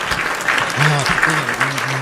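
Studio audience applause greets a musician as he comes out, a continuous wash of clapping with voices talking over it.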